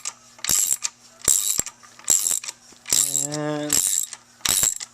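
A ratchet slowly cranks a bolt out of a Ferrari 348 engine during a cam belt change: five or six bursts of close, crisp clicking come in a steady stroke rhythm, with one brief squeak partway through.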